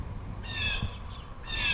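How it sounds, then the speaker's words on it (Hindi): Birds calling from treetops in a children's bedtime story scene, a few short harsh, cawing calls in two bursts, fairly clear against a quiet background. "तारा को पेड़ों के ऊपर से चहचहाहट सुनाई दी।"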